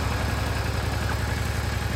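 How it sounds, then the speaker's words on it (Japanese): A Yamaha Drag Star Classic 400 cc motorcycle fitted with an Easyriders muffler idles steadily up close, giving a deep, even, rapid thumping rumble with no voices over it. "エンジン音聞かせて。"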